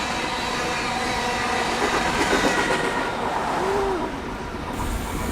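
A long train rolls past on a railway running beside a road along a river in Montana's national forest, a steady close rumble of rail cars with faint wheel squeal near the end as the last wagons go by.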